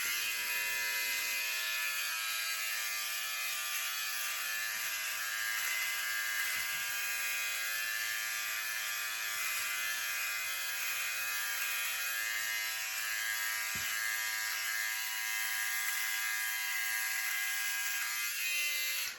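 A Philips One Blade electric shaver buzzes continuously up close for the full stretch, a steady high-pitched electric hum with slight shifts as it moves over skin, with no voices.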